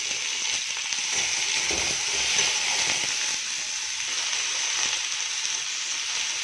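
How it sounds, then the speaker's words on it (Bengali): Pieces of elephant foot yam and potato fry in oil in a wok, giving off a steady, close hiss of sizzling with small crackles and no talk. "কড়া বসিয়ে দিয়েছি, ওল আলুটা ভালো করে ভেজে নেবো"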